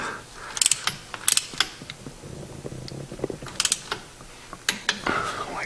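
A torque wrench tightens the cover bolts on a 12-bolt rear end, a close run of ratcheting clicks in short bursts with metallic clanks between them.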